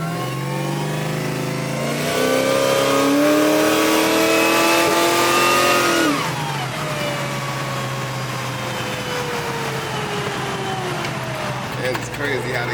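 A 1971 Chevelle convertible with a freshly swapped supercharged LT4 V8 revs hard and loud, the pitch climbing and then dropping off into a lower, steady drone, with people talking over it.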